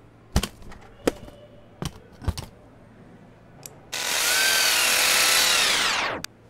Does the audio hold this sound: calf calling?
no